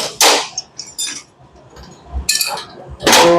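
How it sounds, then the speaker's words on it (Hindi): A hammer strikes a repair part to knock out its magnet, giving several sharp metallic taps spaced irregularly, close and loud against a quiet background. "यहाँ पे रख के ना हथौड़ी मारनी है इस जगह के ऊपर"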